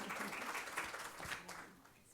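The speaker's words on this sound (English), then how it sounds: "So let's give him a round of applause." Audience applause for a guest speaker at a cancer research talk, a steady wash of many hands clapping at moderate distance, faint and uniform, fading slightly toward the end.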